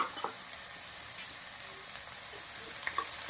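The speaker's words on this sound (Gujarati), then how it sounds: "લસણ ડુંગળીને સરસ મજાના તેલના અંદર સાંતળી દેવાના છે" Chopped garlic and onion sauté in oil, a soft, steady sizzle with faint crackles and the occasional light scrape of stirring, close but quiet throughout.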